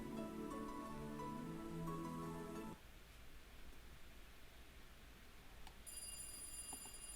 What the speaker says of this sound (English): he heard the phone ring